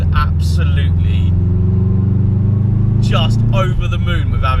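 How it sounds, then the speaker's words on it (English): A Subaru Impreza engine idles with a deep, steady burbling rumble close by, running continuously while someone talks over it. "These Subaru Imprezas, mate, sound so good."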